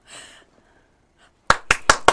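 Brief applause after a National Assembly vote, four sharp, loud claps in a quick rhythm following a quiet stretch with a faint voice at the start.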